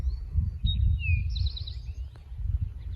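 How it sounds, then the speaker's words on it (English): Birds sing near the ocean, giving bright chirps and short whistled phrases over a low steady rumble of wind or surf. The calls are moderately close and intermittent across the stretch. "listen to the birds, smell the ocean"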